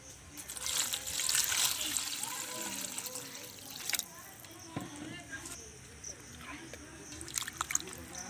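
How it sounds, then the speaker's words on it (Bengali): Water is poured over pricked pieces of ash gourd in a bowl, a soft trickling and splashing, louder at first and then settling into intermittent drips and clinks, with someone talking over it. "এবার এর মধ্যে আমি জল দিয়ে দিচ্ছি।"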